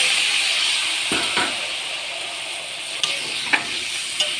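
Water is added to a pan of pointed gourd frying in oil, giving a continuous close sizzle and hiss broken by a few soft clinks of a utensil against the pan.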